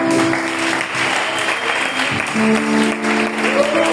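A church congregation at a special praise and worship service claps and cheers together, loud and steady for several seconds, with music tones sustained underneath.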